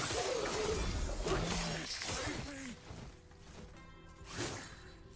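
Shatter Strike skill breaking ice in the action RPG Last Epoch, a loud crystalline shatter with swooshing impacts over the first seconds that fades into quieter game effects, with voices talking over it.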